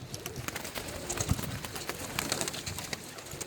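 Birmingham Roller pigeons coo softly outdoors in Apple Valley, a few low, repeated calls blending into a steady bed of background noise with no talking.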